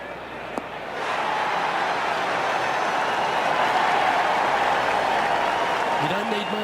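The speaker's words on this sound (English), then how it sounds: "You don't need much to fire up this crowd, but that one will get them on their feet." A PGA Tour golf crowd erupts after a shot, a sudden swell of loud sustained applause and cheering that holds steady, with a voice briefly audible near the end.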